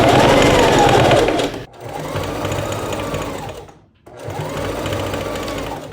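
A sewing machine runs loud and close in two long continuous stitching runs with a brief stop between, sewing layered fabric for an upcycled Barbie-inspired vacation dress.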